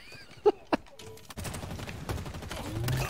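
Two sharp gunshots from an S7 sniper rifle in a video game crack close and loud in quick succession, followed by a dense wash of game noise and background clatter.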